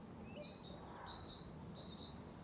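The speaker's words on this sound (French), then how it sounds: "Moi ici il y a des oiseaux" Small birds chirp and twitter outdoors during a quiet walk, several short high calls scattered across the moment, faint and somewhat distant over a soft background hush.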